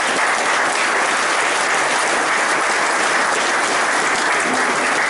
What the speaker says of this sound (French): des gens comme Ellie Stevenson, que je vous demande d'applaudir s'il vous plaît.